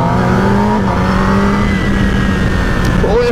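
A Kawasaki Ninja ZX-6R superbike engine runs loud and close on a village ride, holding a steady, buzzing tone before climbing briefly in pitch as it revs near the end.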